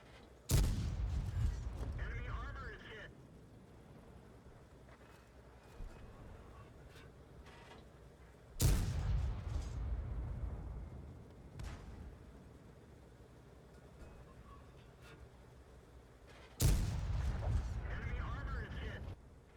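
Tank cannon fire in World of Tanks, three heavy booming shots spaced about eight seconds apart, each decaying into a rumbling tail, with quiet engine noise between them.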